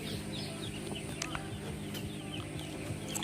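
Eight newly hatched ducklings from an incubator peep faintly with scattered high chirps over a quiet background hum, with no talk.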